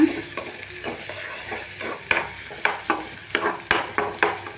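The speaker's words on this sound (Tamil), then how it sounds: "இப்போ இந்த ஆனியன் வந்து நல்லா வதக்கிக்குங்க" Half an onion sautéing in hot oil in a pan for Hyderabadi chicken dum biryani, a steady sizzle broken by regular scraping stirs, close and moderately loud with no talk.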